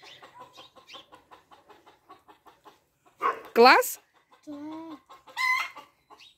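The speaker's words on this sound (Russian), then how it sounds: "Курица с ума сошла." Chicken clucks and excited squawks burst out loudly after a stretch of quiet chatter, with a person speaking briefly nearby, in Sukhum, Abkhazia.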